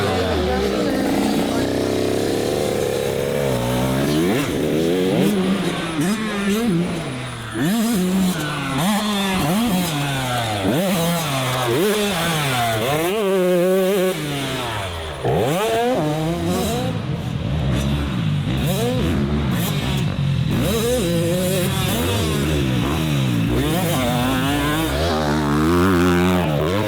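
Racing motorcycles on a track in Australia scream past with engine pitch sweeping up and down through gear changes, loud and nearly continuous throughout.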